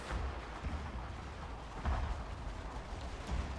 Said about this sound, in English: Slowly but surely, we're whittling the enemy away with the artillery.